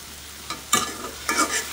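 Greens with onion, green chili and garlic frying in a zinc kadai, soft sizzling with a few scraping stirs of a spatula in two short bursts, close by.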